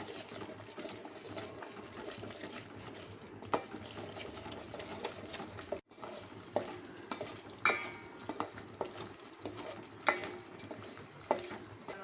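A spoon stirring turmeric and chilli powder in a frying pan for shev bhaji, steady scraping and clicking strokes over a soft continuous sizzle, close and moderately quiet, with no talking.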